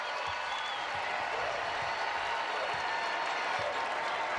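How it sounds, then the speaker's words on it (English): Sellout basketball crowd at the XL Center applauds the UConn Huskies women's team in a continuous wash of clapping and crowd noise, steady and broad throughout. "the remains of the sellout crowd at XL Center will come to their feet and applaud the performance by their Huskies"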